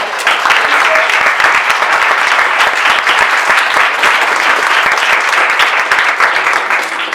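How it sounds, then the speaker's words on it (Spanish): A dense, loud wash of audience applause fills a book-launch event, many hands clapping continuously and evenly throughout with no pause. "un aplauso a la autora por el libro."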